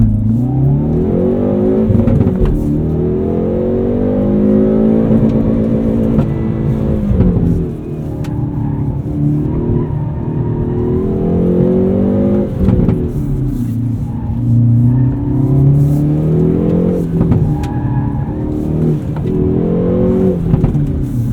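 Front-wheel-drive 2019 Hyundai Veloster N accelerating hard on a race track, a loud, close engine drone rising and falling through the gears with steady revving sweeps and no talk.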